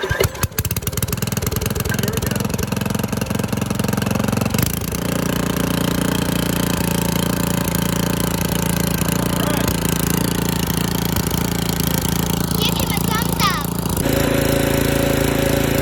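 Briggs and Stratton 5.5 HP small engine sputtering through starter pulls, then catching and running steadily at a loud, close, even idle with a constant low drone.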